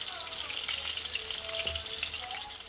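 Sliced potato strips with turmeric and salt sizzle steadily in hot oil, a continuous close crackling fry with occasional sharper pops and faint background tones.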